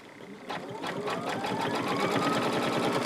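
An embroidery sewing machine stitches an in-the-hoop book cover, its needle hammering in a fast, steady rhythm with a whirring motor, close and continuous after a quieter start.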